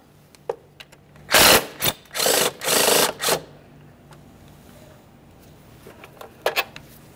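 A power tool whirs in four loud bursts as it backs out a 10mm-headed mounting bolt on a 2002–2009 Chevrolet Trailblazer with the 4.2L inline-six, followed by faint clicks of the loosened hardware.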